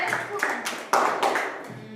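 Several rounds of group hand clapping during an outdoor nature walk and leaf-identification activity, coming in short uneven bursts with a voice speaking faintly underneath.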